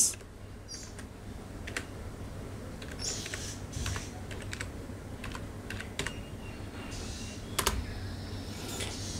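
Typing on a computer keyboard, a steady stream of soft, close key clicks with occasional sharper taps, heard alone over a faint low hum.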